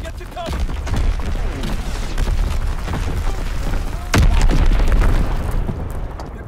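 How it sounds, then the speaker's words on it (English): Enemy bomb explosions in the World War II shooter Call of Duty: WWII, heavy booms rumbling over a constant battlefield din, with a loud blast hitting about two-thirds of the way through and scattered distant gunfire around it. "Enemy bomb incoming, get to cover."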